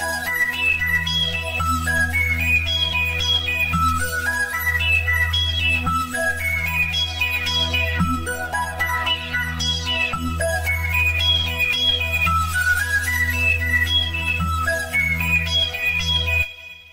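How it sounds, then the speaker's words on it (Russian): A Serum synthesizer preset plays a bright, repeating arpeggio over a steady low bass drone, rippling up and down continuously for the whole stretch before cutting off at the end. "Для начала мы разберем такое красивое арпеджио."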